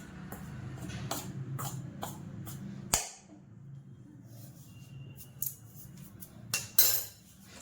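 A spoon stirs ragi (finger millet) flour with hot oil in a bowl, giving repeated scraping clinks against the bowl. There are a few sharper taps, then a quieter stretch and a brief louder clatter at the end. No one speaks.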